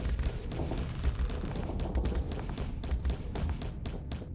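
Flak cannons fire in the space combat game Starsector, a dense, rapid barrage of overlapping bursts and thumps that continues unbroken through the whole stretch without any talking.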